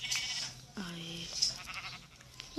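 A sheep in the Minecraft video game gives a single short bleat partway through, set against quiet game background noise and soft clicks, with no talking.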